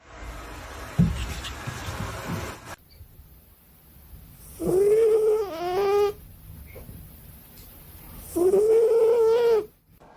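A cat lets out two long drawn-out yowls a few seconds apart, loud and close, with quieter rustling and room noise between them.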